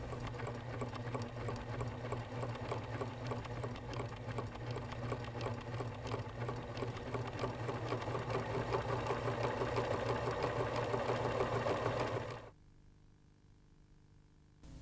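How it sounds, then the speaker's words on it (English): A Pfaff sewing machine runs a stitch that widens as it sews, with a close, rapid, steady mechanical whir that grows slightly louder before stopping abruptly near the end, with no talk. "Begin sewing. As you sew, increase the stitch width up to 6 millimeters."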